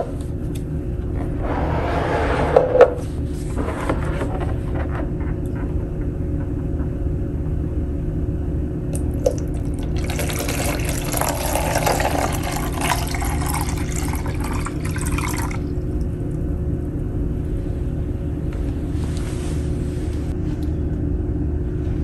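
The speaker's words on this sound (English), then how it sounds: "Next step is to rinse the bedpan and make sure to pour the contents into a toilet." A bedpan is rinsed with water and its contents are poured into a toilet, heard as short splashing, running-water bursts over a steady low background rumble. Nobody speaks.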